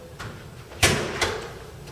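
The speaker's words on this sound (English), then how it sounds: "Open the door." A door swings open with a sharp thud of the latch and frame, followed a moment later by a second softer knock, close by in a quiet room.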